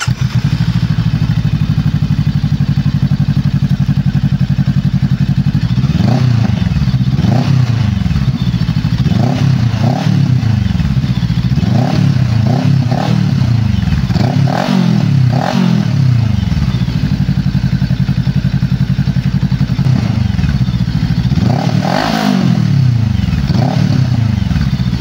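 A Bristol Venturi 500 motorcycle fitted with an aftermarket full exhaust idles loudly, then is blipped through a series of sharp revs that rise and fall repeatedly, with a crackling, rumbling tone up close.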